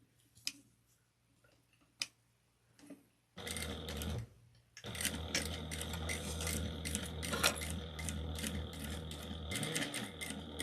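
A sewing machine runs a half-inch seam: a few isolated clicks and a low hum at first, then a sustained, close, rapid stitching whir that continues to the end.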